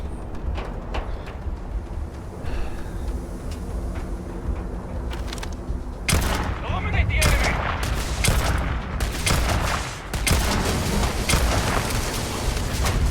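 Repeated gunfire bursts from a Starfield firefight, sharp broadband cracks clustering densely in the second half, with game ambience and occasional faint speech underneath.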